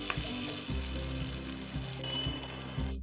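Cumin, black cumin and ginger garlic paste sizzle steadily in a pan over medium flame for dal makhani, with a low rhythmic stirring thud about every half second.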